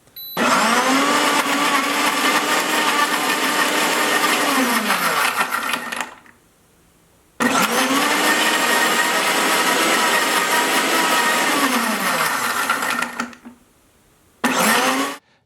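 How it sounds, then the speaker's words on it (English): An Instant Pot Ace blender runs its smoothie program loudly in long whirring bursts, pausing twice with brief silences between cycles, its motor pitch shifting as it speeds up and slows. "Clicking the smoothie button, it does take a few seconds to get started."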